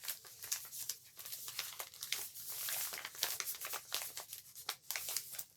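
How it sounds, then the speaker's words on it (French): Adhesive tape being handled and pressed down over washi tape on a small card, giving close, quiet crinkling and crackling bursts with sharp tearing peaks, no talking. "Mettre du scotch au-dessus du washi."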